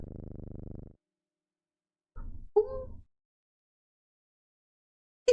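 A cat purrs in the OneShot video game, a low rumbling buzz lasting about a second, followed after silence by a couple of short soft cat chirps and a brief final sound.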